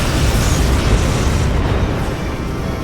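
A photon torpedo detonates in the Star Trek Legacy space combat game on Xbox 360, a loud, dense, sustained rumbling blast that fills the whole clip with deep low-end roar and slowly fades near the end.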